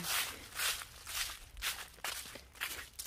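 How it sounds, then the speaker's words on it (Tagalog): Footsteps crunching through dry autumn leaves, a steady walking rhythm of rustling steps, close and fairly loud, with no talk over them. "Naglalakad po ako sa mga dahon kaya po maingay"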